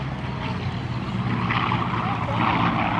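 Corsair warplane at a July 4th air show, a loud, steady propeller engine drone holding throughout with broadband rumble and no clear pauses.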